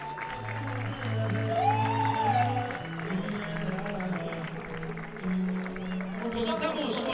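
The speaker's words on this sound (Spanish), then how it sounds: "un fortísimo aplauso a Eduardo Valcárcel" An audience applauds Eduardo Valcárcel at the closing and trophy ceremony of the second Copa Ribadumia, steady clapping running beneath music and a voice.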